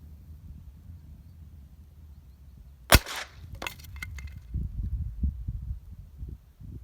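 A single sharp .22 LR rifle shot rings out at a watermelon target outdoors, followed by a brief thump of impact and quiet rustling with light wind noise.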